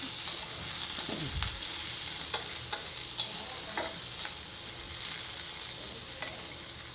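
Onion and garlic fry in a little oil in a cooking pot, a steady close sizzle broken by sharp scraping and stirring clicks from a utensil, with no one speaking.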